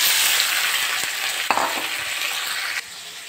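Chicken goes into a pan of browned onions for a Bengali kachu chicken curry, setting off a loud, steady frying sizzle broken by a couple of sharp stirring knocks, with no talking.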